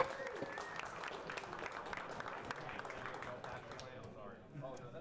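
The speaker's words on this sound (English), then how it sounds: "So please give this panel a round of applause." Conference audience applauds a panel with dense, steady clapping that fills the room, then thins slightly near the end.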